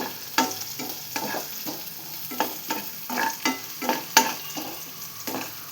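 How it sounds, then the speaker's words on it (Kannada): Cloves, cardamom and onion fry in a pan for a palak paneer gravy, a steady sizzle broken by a regular series of scraping stirs, close and clear with no voices. "ಲವಂಗ ಮತ್ತು ಏಲಕ್ಕಿನ ಫ್ರೈ ಮಾಡ್ಕೊತಾ ಇದ್ದೀನಿ. ಸಿಂಪಲಾಗಿ ಈ ಥರ ಫ್ರೈ ಮಾಡ್ಕೊತಾ ಇದ್ದೀನಿ."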